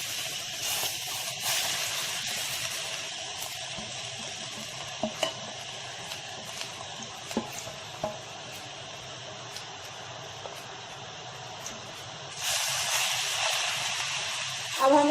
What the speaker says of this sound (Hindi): अब हम इसमें डाल देते हैं कद्दूकस किए हुए लौकी को।